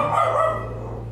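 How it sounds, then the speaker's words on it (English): A pet dog named Golda lets out a single drawn-out bark or whine, close and loud, fading gradually over about a second. "It's my dog."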